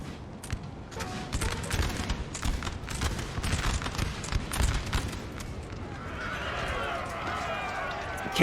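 Cavalry lancers charge chasseurs à cheval in a Napoleon: Total War battle, a dense rumble of galloping hooves with musket fire and whinnies, then a fading, hissy wash as the clash settles, under a commentator's talk.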